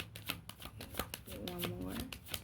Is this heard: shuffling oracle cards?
yes